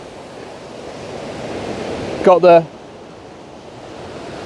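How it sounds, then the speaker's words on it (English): Steady broadband rush of water pouring down a waterfall stream in rain-swollen country, constant and close, with a brief spoken voice cutting in midway. "water rushing"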